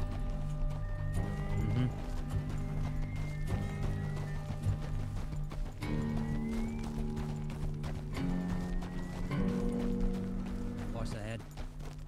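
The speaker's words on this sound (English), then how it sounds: "Let's set our horses here and go on foot." Horses trotting with clip-clop hooves in a Western role-play video game, steady rhythmic hoofbeats running under background music and voices throughout.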